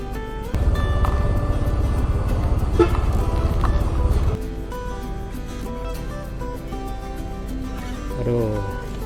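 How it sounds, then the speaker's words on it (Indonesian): A heavy truck rumbles along a road in Pasaman, its deep engine drone loud and close for a few seconds before easing off, with brief tonal bursts like a horn over the rumble. "Truk berat nih"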